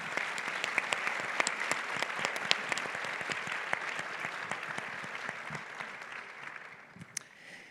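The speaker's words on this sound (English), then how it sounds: "a round of applause to welcome our panelists" Audience applause welcoming panelists at a women-in-leadership panel discussion: a steady, fairly distant wash of many hands clapping that holds through most of the stretch, thinning slightly toward the end.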